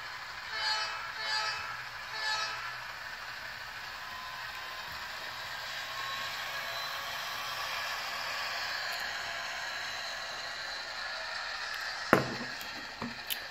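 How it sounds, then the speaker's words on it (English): A DCC model train runs steadily along a track, crossing between booster districts, with a faint continuous whir, a few soft horn-like toots early on and brief clicks near the end. "the train will cross over from one booster district to the other."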